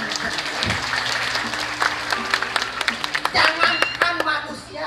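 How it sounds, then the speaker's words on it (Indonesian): An audience at a Balinese drama gong performance breaks into applause, a dense patter of many hands clapping that grows louder and more scattered toward the end, with a voice heard over it. "Tepuk tangan."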